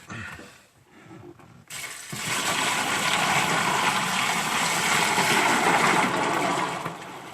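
Water gushes steadily into a bucket in a home laundry for old-school hash making, a loud continuous rushing pour that starts abruptly after a quieter opening and runs several seconds before easing off.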